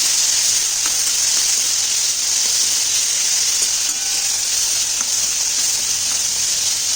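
Chopped tomato, green chili and a piece of ginger fry in a hot pan for a restaurant-style kaju butter masala, giving a steady loud sizzle with faint scraping from stirring and no talking.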